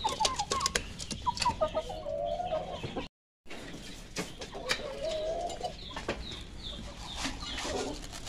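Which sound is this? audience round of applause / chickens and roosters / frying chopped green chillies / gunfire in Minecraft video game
chickens and roosters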